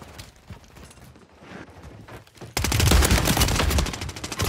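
Gunfire in the video game Warzone 3 on the Vondel Park map: after a quieter stretch of movement and clatter, a loud, rapid burst of automatic shots erupts and keeps going in a dense, close stream.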